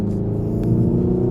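Hyundai Ioniq 5N electric hot hatch emitting its synthetic exterior drive sound, a steady droning engine-like hum with layered low harmonics, fairly loud and continuous, swelling slightly midway.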